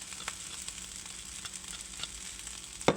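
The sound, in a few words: fried rice sizzling in pan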